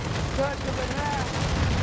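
Gunfire in the video game Modern Warfare III, a dense, steady rattle of shots and blasts that runs through the whole moment, with voices and game tones mixed in.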